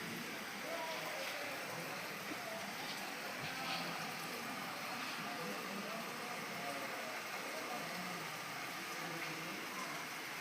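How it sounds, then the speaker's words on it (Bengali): Rain falls along a road with vehicles passing, a soft, steady hiss that stays faint and continuous for the whole stretch. "আপনারা শুনতে পাচ্ছেন বৃষ্টির আওয়াজ।"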